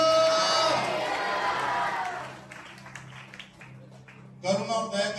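A church congregation breaks into loud applause and cheering that fades away, then returns in a fresh burst of clapping and shouts near the end.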